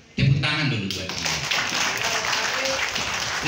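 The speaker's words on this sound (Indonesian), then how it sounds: "Tepuk tangan dulu buat dia." A crowd at a school gathering breaks into applause, a dense steady patter of many hands clapping that continues without a break.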